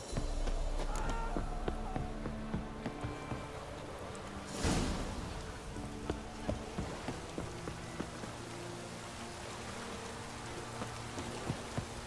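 Rain hisses steadily in The Witcher 3 on Fyke Isle, a dense patter that is louder at first and then settles under quieter game ambience, with one brief swell midway.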